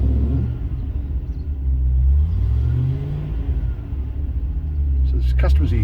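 A 1994 Range Rover engine idles smoothly as a steady low rumble with slight wavering, close by, with a voice speaking over it throughout and a brief clatter near the end.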